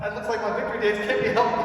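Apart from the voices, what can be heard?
No distinct noise like a dog, phone or traffic.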